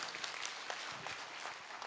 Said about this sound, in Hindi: जोरदार तालियां बजाओ उन्हें